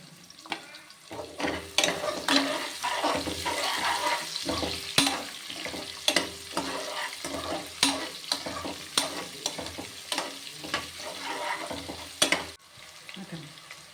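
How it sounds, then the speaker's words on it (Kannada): Onions frying in ghee in a pan for white pulao, a steady sizzle under frequent sharp stirring and scraping strokes of a spoon against the pan, close and continuous without speech. "ಈರುಳ್ಳಿ ಸ್ವಲ್ಪ ತುಪ್ಪದಲ್ಲಿ ಫ್ರೈ ಆಗಲಿ."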